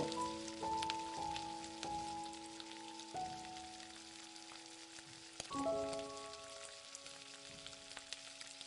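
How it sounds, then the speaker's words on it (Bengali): Cabbage and egg chops fry until golden brown in hot oil, giving a steady, soft sizzle and crackle throughout, with sustained melodic tones playing over it. "তিনটে চপ ভেজে তুলে নেবার পর ওই একই তেলে বাকি চপগুলোকেও আমি ওই একইভাবে কিন্তু গোল্ডেন ব্রাউন করে ভেজে নেব"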